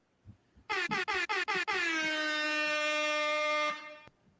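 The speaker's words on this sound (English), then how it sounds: "Air horn me, please." An air horn blasts five short bursts in quick succession, then one long sustained blare lasting about two seconds, loud and alone.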